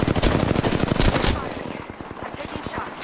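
Rapid automatic gunfire from Apex Legends: a dense, loud, evenly spaced burst of shots that thins into quieter, more spaced rounds near the end.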